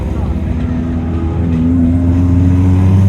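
Vintage race cars at the Pittsburgh Vintage Grand Prix, including a Lotus Elan, Datsun, Miata and Honda, rumble past with engines building loudly, while someone comments over the noise.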